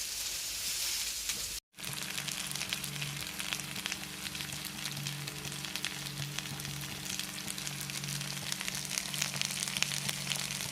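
Fish pieces frying in oil on a slow flame for a crispy hotel-style meen varuval, giving a steady, dense sizzle throughout after a brief cut near the start.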